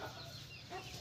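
Chickens cluck softly in a home garden, a faint, low-level stretch of fowl sounds against a steady background hiss.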